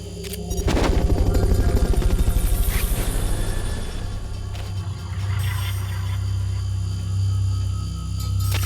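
A Fulton recovery helicopter in Metal Gear Solid: Peace Walker, its steady low rotor drone loud and continuous throughout, with brief bursts of gunfire-like clatter layered over it early on.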